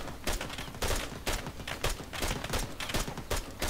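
Bursts of video game gunfire crack out in rapid, irregular volleys, loud and close, with repeated sharp shots stacking into a sustained firefight.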